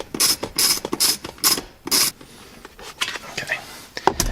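Quick ratchet clicks from a long socket loosening recessed console nuts on a Ford Mustang S197 during parking brake work. The clicks come in short rapid bursts, then softer rubbing and handling noises, with talk in the background.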